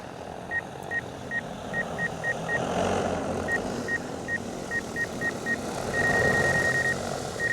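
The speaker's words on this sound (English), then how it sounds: "You'll notice your radar is beeping as to how close you are to things." A DJI Agras T100 agricultural drone's obstacle radar gives short, evenly spaced beeps in quick runs that merge into one sustained tone, over a steady broadband rotor and wind roar.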